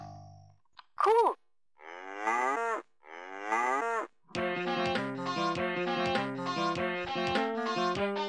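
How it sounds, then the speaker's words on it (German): A VTech Singspaß toy microphone from 2009 plays several electronic cow moos, then moves into a bright, bouncy tune. "Kuh."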